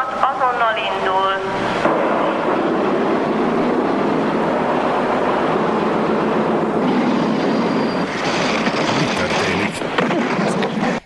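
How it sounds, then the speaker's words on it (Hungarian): Train departing in a Hungarian MÁV railway advert, steady rumbling rail and carriage noise running throughout, with voices and a short melodic signal at the start and other sounds layered over it. "Figyelem, a vonat azonnal indul."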